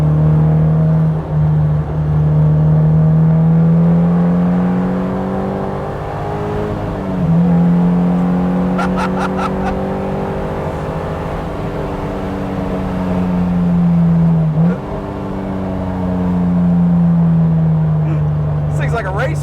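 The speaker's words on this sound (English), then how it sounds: "So this car has the 3SGE Beams motor swap in it" A Toyota Corolla AE86 coupe with a swapped 3SGE Beams engine revs and pulls through the gears, a strong, close engine tone that climbs steadily, drops at each shift and climbs again, with people talking over it.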